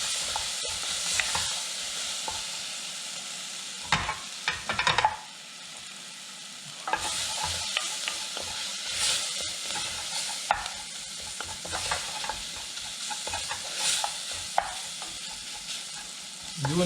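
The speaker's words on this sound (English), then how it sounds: "And we're going to give it a good stir. We're going to saute for a minute or two." Curried lentil soup with lal mirch sautés on low heat in a pot, a soft, continuous sizzle broken by repeated scraping stirs of a spoon against the pot.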